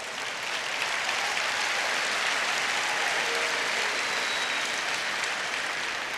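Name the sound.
audience applause at a school convocation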